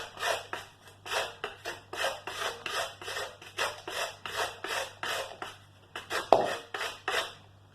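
Coconut is grated into a bowl in quick rhythmic strokes, each a short scraping rasp close by, repeating steadily around twenty times with a slight clunk near the end.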